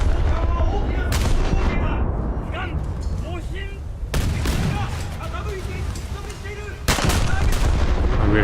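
Rear gun turret of a warship firing in a naval combat video game, heavy booming blasts breaking in sharply at intervals over a steady rumble of engine and sea noise, with a voice talking throughout.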